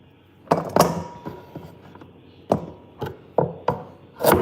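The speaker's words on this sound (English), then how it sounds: "They're thinking I'm chopping up some meat, I guess." Meat for goulash is chopped on a board in a kitchen, a series of about eight sharp, irregular knife thunks, close and distinct against a quiet room.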